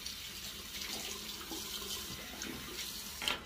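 Water from a tap runs steadily into a sink during a rinse, a continuous broadband splashing hiss that holds close and even throughout with a brief louder burst near the end, no voices.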